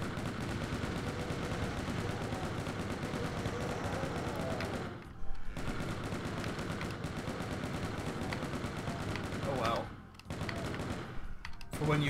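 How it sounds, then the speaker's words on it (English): Rapid chain gun fire in the video game DOOM II, a dense continuous rattle of shots running through most of the stretch with a couple of brief pauses, close and loud. "I think I'm going to use the chain gun up here."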